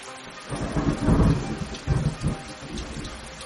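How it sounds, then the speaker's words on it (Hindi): Deep rumbling thunder rolls in two loud swells over a steady wash of rain. "रात भर इतनी तेज बारिश हुई कि बाहर हर तरफ पानी ही पानी हो गया।"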